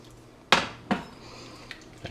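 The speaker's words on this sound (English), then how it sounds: "And then I will just stir that and incorporate that into the sauce." Chicken scaloppine sauce is stirred in a metal pan, with two sharp clanks of a utensil against the pan followed by softer scraping and a light tap, close and alone.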